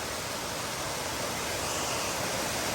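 Waterfall on a forest trail on the climb to Cheoah Bald, a dense steady roar of falling water with no other sounds, loud and close.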